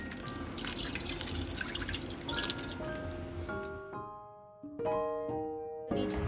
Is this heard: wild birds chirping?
no